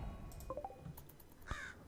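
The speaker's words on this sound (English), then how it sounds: "the cat killed the raven and ate it" In the video game RimWorld, a raven gives a single short, rough caw over faint background sound.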